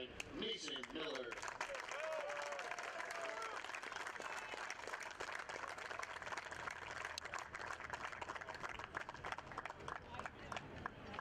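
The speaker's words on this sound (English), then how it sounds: "Fans, how about one more round of applause for our 12 2022 seniors" Sustained crowd applause and cheering at a college baseball game's senior day ceremony, a steady, dense wash of clapping from the stands throughout, with a brief voice early on.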